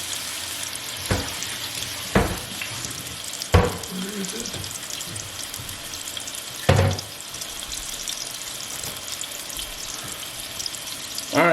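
Pork chops sear in a hot pan with a steady broadband sizzle that runs throughout, broken by several sharp knocks and clatters of kitchen handling.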